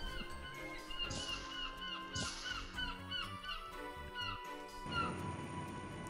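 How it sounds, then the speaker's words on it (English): A bird calls in the video game CrossCode, honking cries that rise twice over a looping melodic game score, with a synth tone carrying beneath and no speech. "I like how I can still hear the bird"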